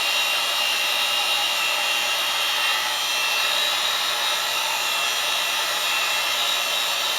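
A heat gun on its low setting blows onto EVA foam, giving a constant, loud airy hiss that does not vary and plays alone with no talk.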